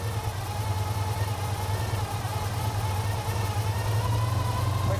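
An engine fitted with a performance carburetor idling steadily, a close, even low rumble with a slight rhythmic pulse throughout.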